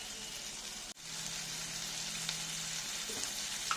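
Chopped onion, tomato and green chilli sizzle steadily in oil in a pan, a soft continuous crackle with a brief stir or clink partway through.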